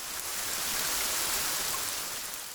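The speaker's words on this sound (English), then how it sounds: "That was raining." Rain falls over an open field in a steady, even wash of broadband hiss that swells slightly and then eases, fairly faint and distant, with no voices.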